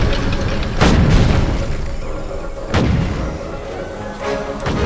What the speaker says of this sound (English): Delivering ordnance.